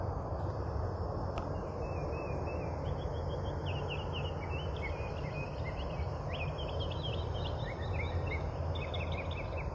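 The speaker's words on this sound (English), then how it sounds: "Now the bird that you're hearing there is one of those mockingbirds." A mockingbird sings outdoors in summer, a run of quick varied chirps and repeated phrases, fairly faint and distant over a constant background hiss of insects.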